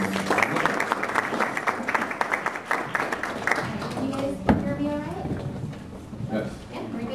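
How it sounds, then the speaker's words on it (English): An audience at a business reputation management talk applauds to welcome a speaker, a brisk round of clapping that fades as a voice begins talking over the end. "let's give Christi a warm round of applause"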